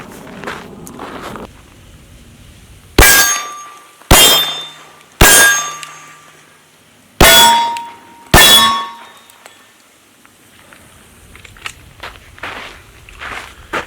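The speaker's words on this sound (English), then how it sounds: "I'm going to shoot the steel from a little further out" Five loud, sharp metallic clangs of handgun rounds striking a steel target, fired slowly at irregular intervals with short ringing decays, over quiet outdoor background.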